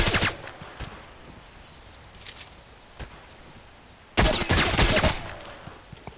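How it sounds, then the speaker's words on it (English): Bursts of automatic gunfire from the shooter game Contract Wars rattle out in a few short volleys, the loudest and longest near the end, with quieter stretches of ambient game noise between. "Why are you shooting?"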